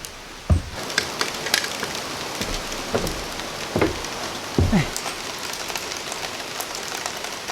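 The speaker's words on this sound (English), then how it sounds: "Wow, the rain's coming fast." Steady rain patters across a surface, a dense hiss with a few louder knocks and thumps now and then.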